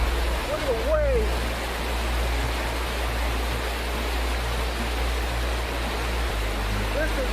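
Rushing floodwater after torrential rain surges in a loud, continuous roar of churning waves, with a brief whistling sound early on and a low rumble beneath.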